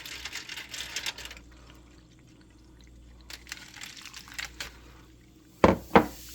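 Hot liquid cleaning bath fizzing and bubbling around a 90% silver coin, a soft broadband hiss that is strongest at first and then thins out, ending with two sharp, loud clicks close by.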